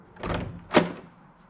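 A door in the video game Tesla Effect: A Tex Murphy Adventure opens with two quick muffled thuds, the second sharper and louder, then fades to quiet.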